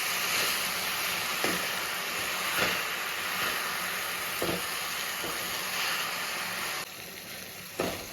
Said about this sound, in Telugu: ఇది బాగా వేగాలండి గోంగూర అనేది.